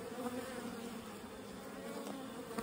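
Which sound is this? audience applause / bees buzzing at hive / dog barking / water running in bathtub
bees buzzing at hive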